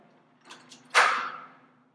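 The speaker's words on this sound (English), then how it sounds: "turn it to the left until you hear the click" A key turns left in a door lock to throw the deadbolt. Two faint ticks come first, then one sharp, close click that rings briefly, all in a quiet room.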